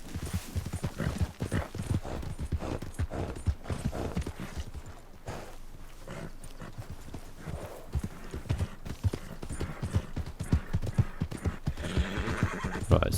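Galloping horse in Red Dead Redemption 2, with steady rapid hoofbeats throughout and a whinny or neigh among them, loud and close with no talk.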